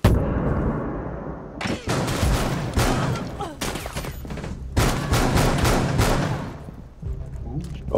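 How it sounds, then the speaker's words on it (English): A shotgun in Rainbow Six Siege fires a series of loud, booming blasts in quick succession, roughly half a dozen shots spaced under a second apart, close and punchy. "Holy shit, the shotgun."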